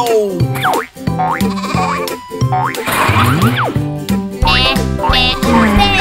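Cartoon sheep bleats, bouncy and exaggerated, ring out loudly over upbeat children's nursery-song music with a steady rhythmic beat.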